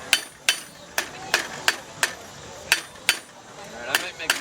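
A blacksmith hammers hot steel on an anvil while forging a hook. About a dozen sharp, ringing strikes land in a fairly regular rhythm, close and distinct, with quiet workshop noise between blows.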